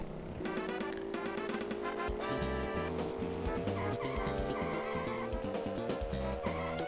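Mario Kart game audio from a ZX S90 handheld running a SNES emulator: a steady, busy mix of chiptune music with engine drone and tire-skid effects, continuous and fairly loud with no talk.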